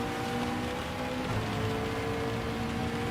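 Heavy rain in the racing game Gran Turismo 7, a steady dense hiss of falling water with a faint engine drone beneath, continuous and even with no talking.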